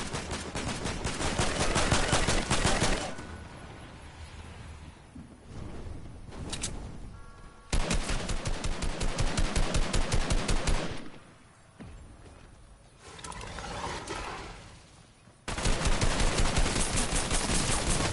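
Rapid automatic gunfire in the Fortnite video game, loud dense bursts of repeated shots separated by short pauses and quieter stretches, with no talk.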